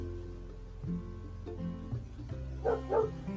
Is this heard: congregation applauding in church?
no